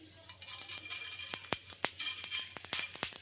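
Cumin seeds sizzling in hot oil while making a local fry, a soft steady hiss punctuated by sharp crackles and pops that grow more frequent, close and fairly quiet.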